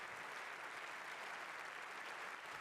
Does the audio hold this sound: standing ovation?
yes